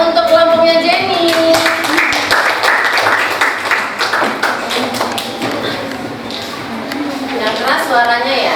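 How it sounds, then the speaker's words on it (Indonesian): Classroom applause for a student group during a teaching session, scattered hand claps and taps mixed with voices talking over them, loud and close throughout. "Tepuk tangan untuk kelompoknya Jenny."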